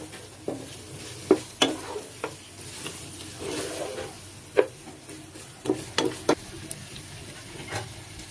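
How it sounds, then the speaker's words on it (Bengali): Chicken meat frying in oil and being stirred with spices for chicken polao, a soft continuous sizzle broken by sharp scraping and clinking strokes of the spoon against the pan. "মাংসটা এখন মশলার সাথে ভালোভাবে কষিয়ে নিব"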